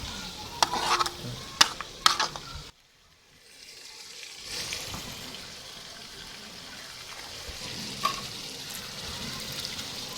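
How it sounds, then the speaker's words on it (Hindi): Pakoras with methi and onion frying on a wood-fired chulha: a few sharp clatters, then a short hush before a steady bubbling sizzle rises and holds, with one more clink near the end. "लकड़ियों वाले चूल्हे पे बना रही हूँ मैं पकोड़े"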